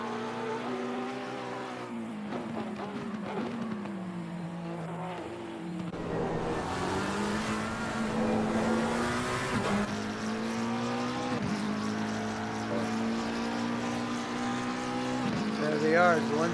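Race cars, a McLaren and a Porsche, in a racing video game at Zolder, with engines droning and shifting pitch throughout, rising louder partway through as the cars pass.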